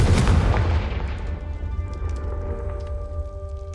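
A Confringo fire spell explodes in the game Hogwarts Legacy with a loud, deep boom at the start that rumbles and crackles as it slowly fades over a few seconds.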